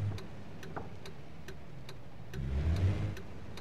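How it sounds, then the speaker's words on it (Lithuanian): The turn signal of a Japanese-made right-hand-drive car ticks at a steady, even rhythm, close and clear over a low idling engine hum that swells briefly partway through. "Posūkio garsas labai geras."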